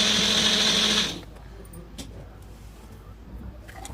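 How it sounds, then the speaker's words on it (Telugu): A kitchen mixer grinder blending watermelon juice whirs loudly and steadily for about a second, then switches off and leaves a quiet room. "మిక్సీ వేసాను ఇట్లాగా."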